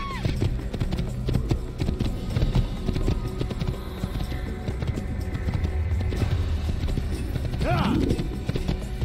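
Steady horse hooves clip-clop at an even trotting pace over a continuous background of Assassin's Creed game noise, with a brief whinny-like call near the end.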